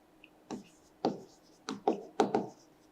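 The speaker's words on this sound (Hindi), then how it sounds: "तो हम इधर पहले प्रॉपर्टीज लिखते हैं" Chalk or marker writing on a board in a chemistry lesson, five short scratchy strokes in quick succession with brief pauses between them.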